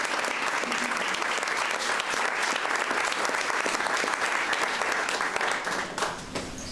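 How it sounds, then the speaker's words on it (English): A crowd at a Juneteenth legacy celebration gives a sustained round of applause, dense even clapping holding at steady volume throughout before easing slightly at the end. "Please give them a round of applause"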